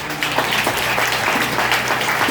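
A church congregation claps together in a dense, sustained round of applause, loud and close, with a little voice mixed in.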